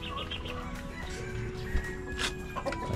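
Breeder chickens cluck and murmur inside a brooder area on a poultry farm, a steady low chorus of hens with occasional louder calls over constant background hum.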